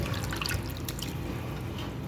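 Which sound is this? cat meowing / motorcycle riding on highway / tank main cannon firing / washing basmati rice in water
washing basmati rice in water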